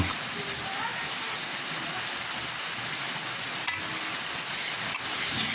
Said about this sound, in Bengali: মশলাটা ভালো মতো কষিয়ে নেব